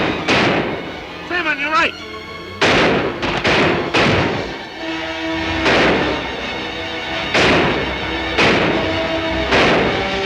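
Gunfire crackles through a western film battle, with sharp loud shots and booming blasts in bursts, their echoes ringing between them, while someone shouts over the shooting.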